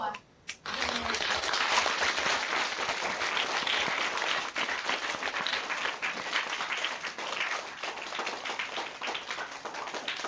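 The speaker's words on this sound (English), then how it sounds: "join me in giving a warm round of applause to Pro Football Hall of Famer Mr. Billy Shaw" Students give a sustained round of applause for Pro Football Hall of Famer Billy Shaw, the dense clapping starting after a brief pause and holding steady at moderate volume throughout, with no talking over it.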